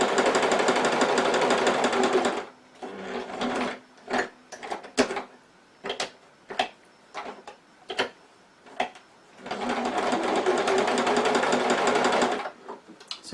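A sewing machine stitches a seam on a fabric purse, running in two loud steady bursts close by, with a series of sharp ticks and clicks in the pause between them as the stitching is adjusted.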